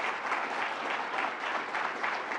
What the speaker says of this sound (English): Let's give our president another round of applause.